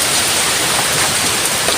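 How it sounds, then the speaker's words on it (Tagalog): Heavy rain pours down steadily amid strong wind, a dense, loud, continuous hiss with no pauses and no voices. "Grabe yung hangin. At lakas pa ng ulan."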